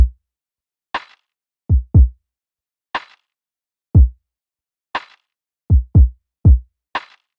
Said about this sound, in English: really simple kick and snare pattern